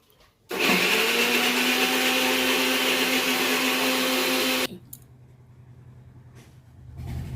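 Electric mixer grinder whirs loudly and steadily for about four seconds while grinding a spice paste for chicken curry, then cuts off, leaving quiet room tone with a few faint knocks.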